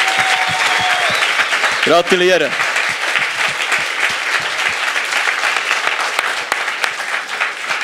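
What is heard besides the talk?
audience applause for science slam winner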